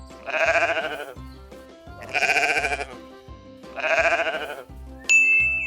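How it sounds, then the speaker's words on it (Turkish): A sheep bleats three times in a slow, evenly spaced rhythm, each call loud, wavering and close, followed by a short bright chime. "Bu ses bir koyunun sesi."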